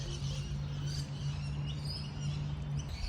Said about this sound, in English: Birds here are super loud, especially in the morning